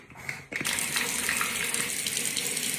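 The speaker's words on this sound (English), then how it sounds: "Let's go wash my face and brush my teeth first." A bathroom tap runs steadily into a sink during morning face washing, a continuous near rushing splash that starts abruptly after a brief quiet moment and keeps flowing without talk.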